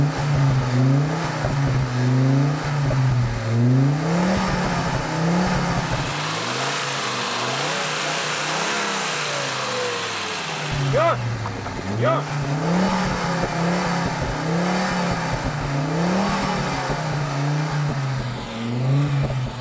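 The stock exhaust on an Audi Quattro five-cylinder rises and falls through repeated revs, with a short gap of quieter running partway through. Someone shouts briefly over the engine.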